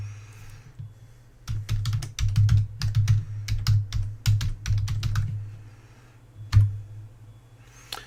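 A new password is typed on a computer keyboard under Linux: quick bursts of crisp key clicks, close and loud, with short pauses and a final heavier keystroke near the end.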